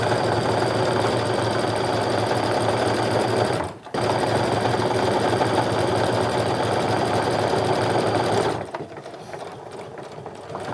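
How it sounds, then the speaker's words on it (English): Sewing machine running steadily while stitching a seam on a cork tote bag, a loud continuous whir with a brief pause near four seconds before stopping near the end. "I'm going to sew right up to that pin where the seam allowances are"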